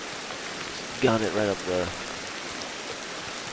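Steady rainfall in the video game Ancestors: The Humankind Odyssey, a constant soft hiss throughout, with someone speaking briefly over it midway.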